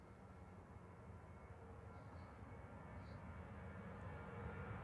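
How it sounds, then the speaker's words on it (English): A Ryanair jet departs runway 23 left at Manchester Airport, bound for Milan, its faint, distant engine rumble swelling gradually as the roll continues, with no talk. "departing in parallel on 23 left is Ryanair heading to Milan"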